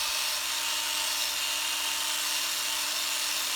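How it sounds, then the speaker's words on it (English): A drill runs continuously with a high, steady whir as a wire brush scours rust from a rear brake part of a 2013 VW Jetta, loud and unbroken, no talk. "with the drill like this"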